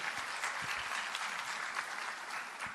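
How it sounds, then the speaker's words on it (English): Audience applause at a school district recruitment and hiring event, a steady dense wash of many hands clapping that holds evenly for a few seconds without voices. "please give our Chief of Leadership and Professional Development, Sandy Massey, another round of applause"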